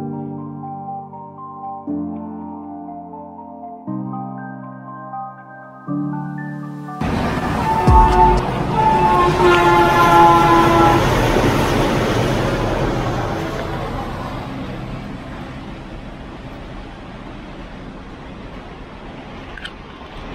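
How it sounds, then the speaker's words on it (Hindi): A train passes close to a home, a steady stepped horn blast first, then a loud broad rumble and rush that slowly fades away. "ये देखो ऐसे ट्रेन से आवाज करते रहते हैं जब भी अपन वीडियो शूट करते हैं"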